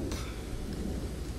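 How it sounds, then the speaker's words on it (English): Steady rain with low rumbling thunder from a rainy sword-fight scene in The Last Samurai, a dense continuous wash with a brief brighter patter early on, heard alone at moderate level. "It is raining."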